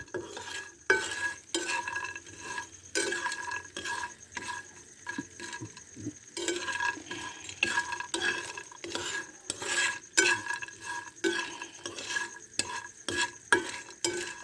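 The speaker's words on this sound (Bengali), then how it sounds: "মটর ডালও দেবো দিয়ে ভেজে নেব হালকাভাবে ভেজে নেবো" Split peas fry in a pan while a spoon or spatula scrapes and stirs them repeatedly, giving close, irregular clatter and scraping over a soft sizzle, with no talking.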